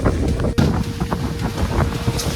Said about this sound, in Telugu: ఇంకా గాలి అయితే వస్తుంది